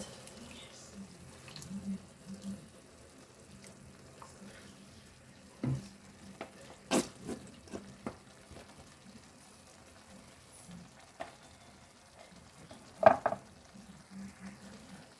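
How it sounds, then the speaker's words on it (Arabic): Tomato sauce with minced meat and vegetables bubbles softly in a pot, with scattered scraping and clinking of a spoon stirring it, faint and close, broken by a few sharper knocks. "غادي نحرك في هاد اللحظه لاصوص كتغلي مزيان"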